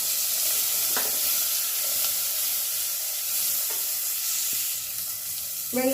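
Onions and green chillies sautéing in a pan with spices and curry leaves make a steady, bright sizzle, with occasional clinks of a spoon stirring and a scrape at the end.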